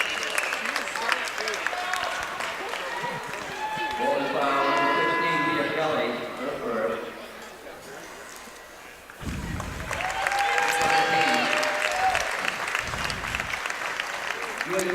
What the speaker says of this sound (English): She'll have a nice ovation from the crowd.